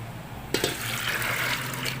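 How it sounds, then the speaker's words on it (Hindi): Water suddenly starts pouring into a cooking pot holding dal, a steady splashing rush that continues to the end, close by with no talking. "मैंने पानी डाल दिया है"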